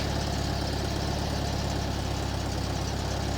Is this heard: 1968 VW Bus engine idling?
yes